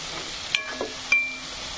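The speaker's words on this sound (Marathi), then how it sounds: "टमाट्याला पण छान असं फ्राय होऊ द्यायचं आहे" Tomatoes with masala, ginger, coriander and garlic sizzle softly in a pan, with a few brief stirring scrapes and clinks over the steady frying hiss.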